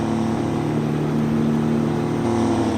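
A 1970s farm truck with a standard transmission accelerates in Farming Simulator, its engine a steady, loud droning hum that holds a constant pitch and shifts slightly near the end, with no talking.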